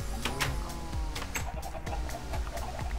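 Chickens clucking in the video game Minecraft, several short repeated clucks over a busy bed of game sounds and background music.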